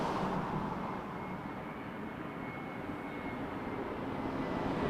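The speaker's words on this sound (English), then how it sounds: "there's a line A321 coming in next from Halifax, Air Canada 617" An Air Canada Airbus A321 inbound from Halifax arrives at Toronto Pearson, a continuous broad jet roar holding steady and fairly loud throughout, with no voices.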